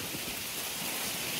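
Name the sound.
rain and wind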